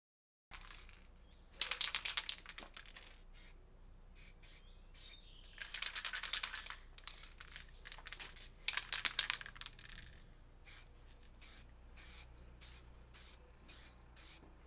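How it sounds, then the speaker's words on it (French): Car body filler on rusted bodywork being hand-sanded with 180-grit sandpaper, close rasping strokes in bursts, longer scrubbing passes at first, then a run of short, evenly spaced rubs with brief pauses between. "un papier à poncer 180."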